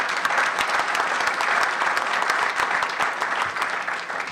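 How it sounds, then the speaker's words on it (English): An audience at a symposium closing keynote applauds warmly, a dense, even clapping that holds steady for several seconds before tapering slightly near the end. "Please, a round of applause for Brian."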